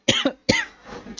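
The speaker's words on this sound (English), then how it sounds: "coughing." One person coughs twice up close, a sharp double cough followed by a longer rough, throaty cough that trails off into a breath.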